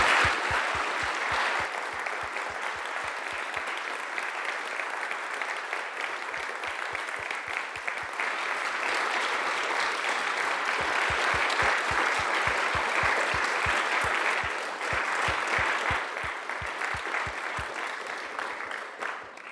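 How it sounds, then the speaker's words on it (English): Sustained applause fills a lecture hall after an AI in Science annual lecture at Oxford, a steady wash of many hands clapping that holds evenly for nearly twenty seconds without a break. "Huge round of applause again for amazing."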